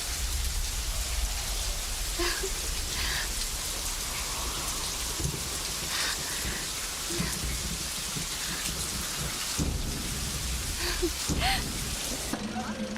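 Heavy rain pours steadily in a film scene, with scattered rumbles of thunder and a few sharper cracks breaking through the dense hiss.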